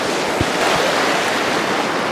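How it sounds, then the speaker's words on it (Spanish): River water flows through a forest in a steady, broadband rush, close and fairly loud, with no voices. "Se escucha como el agua por allí. Yo le escucho el agua."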